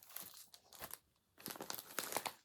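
Sealed plastic bag from a cross-stitch subscription box being handled, with close, loud crinkling in irregular bursts separated by brief pauses.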